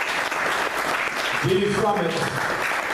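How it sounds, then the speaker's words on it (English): Conference audience gives a round of applause, a steady crowd clapping throughout with a voice speaking over it midway. "give everybody a round of applause"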